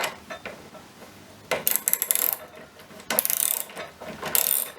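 An 11mm spanner tightens the intermediate clutch nut on a Scott Bonnar 45 mower, heard as three short bursts of close, rapid metallic clicking with quiet pauses between them.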